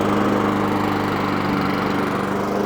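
A Masport Rotarola lawn mower with a Honda carburetor revs from idle up to full throttle, its small engine chattering loudly and evenly up close with no talk.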